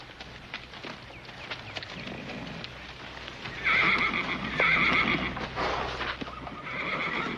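A horse in a 1967 Bonanza western episode gives loud whinnies over the soft clip-clop of hooves and faint background ambience, the neighs rising prominently in the middle and again near the end.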